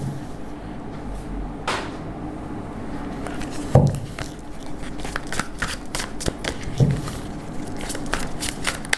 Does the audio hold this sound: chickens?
no